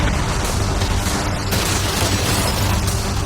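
Cannons fired at a yacht in an outdoor challenge, a dense, loud, continuous roar of blasts and booms with a sharp burst about midway, heard without talk.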